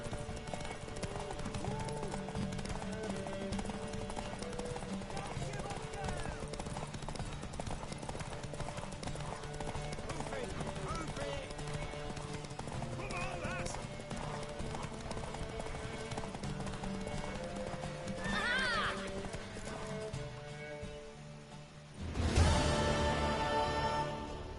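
A horse in The Witcher 3 video game trots with a steady, rhythmic clip-clop of hooves over ambient game sound, a whinny rising near the end before a louder burst of noise.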